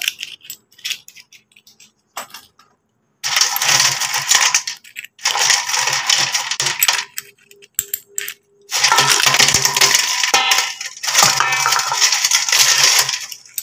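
Copper and nickel coins tumble in a cleaning tumbler with dishwashing soap and toothpaste, a dense metallic clattering and jingling that comes in long loud bursts broken by short silences.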